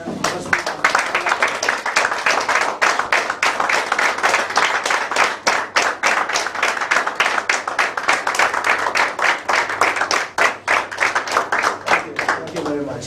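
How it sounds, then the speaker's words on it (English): Steady clapping from a seated audience rising to a standing ovation for the president at a Toastmasters club meeting, continuous and dense throughout with a low murmur of voices beneath. "I invite you to stand up and give a warm applause to our dear President."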